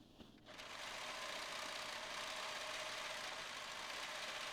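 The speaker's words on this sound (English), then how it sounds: "Next, we're going to overlock / serge the hem" An overlocker serging the hem of small doll jeans, running as a steady, close mechanical whir that starts after a brief quiet moment and continues evenly, with no speech.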